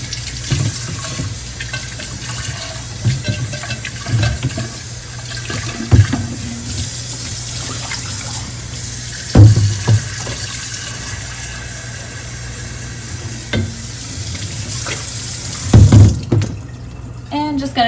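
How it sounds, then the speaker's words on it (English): A bamboo plant's vase being washed inside under a running tap: a steady stream of water pours and splashes close by, with occasional louder knocks and sloshes as the vase is handled and rinsed. "Just gonna clean inside the vase."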